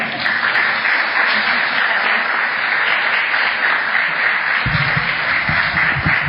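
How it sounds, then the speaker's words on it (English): Steady applause from a crowd, dense and continuous, with a few louder claps joining near the end. "but also applauding Diane's wonderful awards"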